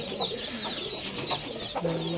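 Giribaj pigeons at a pigeon farm coo softly and repeatedly at close range, with a few brief higher chirps and faint background voices mixed in.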